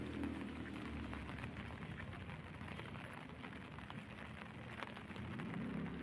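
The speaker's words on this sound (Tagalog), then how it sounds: "ulan" Steady rain falling on a rainy morning, a dense continuous hiss of drops with a low rumble beneath, even and unbroken throughout.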